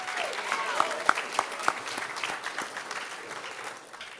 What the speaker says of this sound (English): maybe another round of applause for Will Quist,